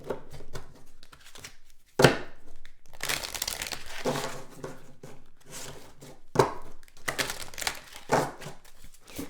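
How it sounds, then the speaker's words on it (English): Tarot cards being shuffled by hand in bursts of crisp riffling and papery crinkling, close and moderately loud, separated by brief pauses. "we're going to shuffle these cards out."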